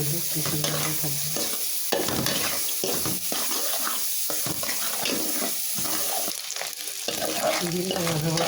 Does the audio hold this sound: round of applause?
no